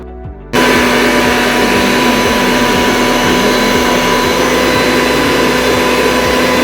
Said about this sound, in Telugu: ఇవన్నీ కూడా మిక్సీ గిన్నెలోకి వేసుకొని గ్రైండ్ చేసుకుంటే మనకి మెత్తటి పౌడర్ అనేది వస్తుందండి